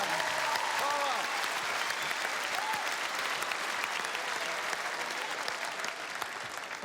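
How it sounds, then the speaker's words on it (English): A studio audience on an Australian football TV show breaks into loud, sustained applause, a thick continuous roar of clapping with some crowd noise, while a presenter's voice briefly cuts in near the start. "Give them a big round of applause, everyone"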